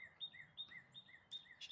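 Cardinals singing outdoors, a series of clear, repeated whistled notes and chirps at a moderate distance, fairly faint over a quiet background.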